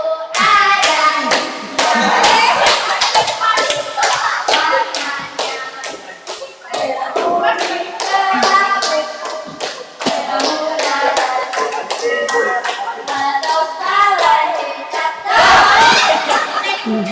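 A classroom of students claps hands together in sustained, dense applause with rhythmic bursts, loud and close, with a few faint voices underneath.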